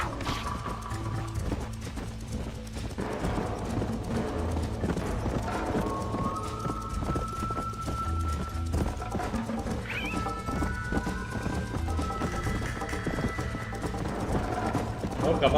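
A horse gallops in the Red Dead game, rhythmic hoofbeats clip-clopping steadily with an occasional whinny, under ongoing speech and game background sounds.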